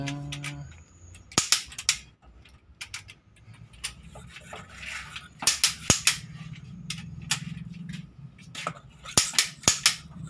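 A torque wrench clicks sharply while cylinder head bolts are checked, the crisp snaps coming in short clusters of two or three, spread across the span over a low background hum.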